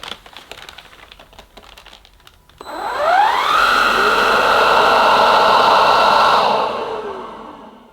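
An AEG FX9 X Ultimate cordless vacuum cleaner switches on and spins up, its rising whine settling into a loud, steady motor drone that holds for several seconds before winding down, after some light handling clicks.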